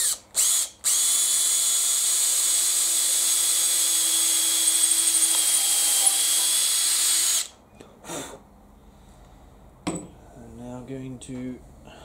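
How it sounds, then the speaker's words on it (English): A drill press whirs at a steady high pitch while boring a 5mm hole into the bottom of a wooden leg for a laminated outdoor table, starting after brief bursts and cutting off sharply near eight seconds, followed by quiet clicks and handling. "I am going to drill a 5mm hole"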